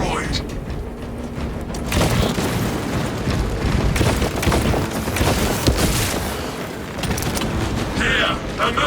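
Melter charge detonating to destroy a hive tunnel in Space Marine 2, heard as heavy booming and crackling blasts in a dense wall of continuous loud combat noise, with voices over the top.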